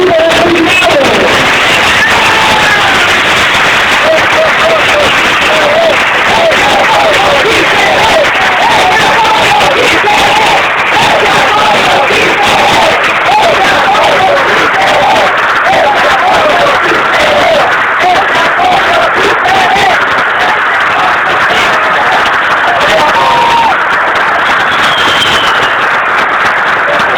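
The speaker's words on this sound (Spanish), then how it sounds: "un aplauso que merecen nuestros compañeros y compañeras del grupo de jubilados" A large union gathering applauds retired members, sustained loud clapping and cheering with whoops holding steady throughout at close range, broad and unbroken.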